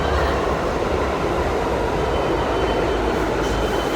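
A New York City subway train passes with a loud, continuous roar of wheels and cars. Faint squeals rise near the end.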